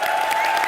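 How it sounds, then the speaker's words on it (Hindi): Studio audience applause during a TV comedy show, steady clapping and cheering filling the short moment with no voices on top. "हाउसफुल की टीम के लिए जोरदार तालियां हो जाए"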